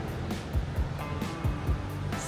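Ocean surf along the beach at 30A, a steady broadband wash with soft recurring swells and wind rumble, no voices.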